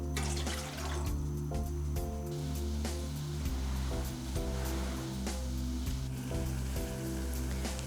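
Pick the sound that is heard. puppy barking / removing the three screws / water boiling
water boiling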